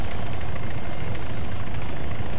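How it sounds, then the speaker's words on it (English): A helicopter's rotor throbs steadily and loudly throughout, a dense, unbroken drone close by with no voices. "Fucking chopper"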